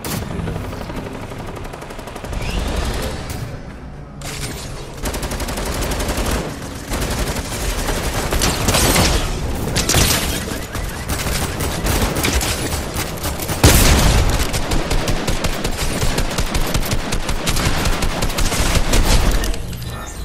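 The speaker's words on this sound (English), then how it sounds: "Hey, somebody shooting me." Relentless automatic gunfire in a duos video game match, loud rapid bursts overlapping almost continuously, with the heaviest stretch of fire toward the end.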